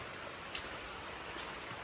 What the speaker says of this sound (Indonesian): Jadi sudah beberapa hari di sini cuacanya hujan terus.